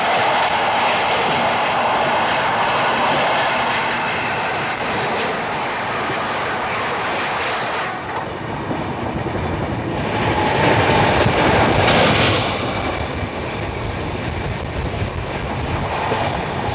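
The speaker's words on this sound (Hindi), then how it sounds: "parallelly overtaking Khajuraho Bhopal महामाना express" An express train rushing along in a continuous loud rumble with steady wheel clatter, a parallel express overtaking on the next track and swelling the roar midway, with no voices.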